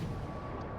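Naval guns firing at an enemy ship in World of Warships Legends, a steady low, dense rumble of sustained gunfire and booms filling the short moment without talk.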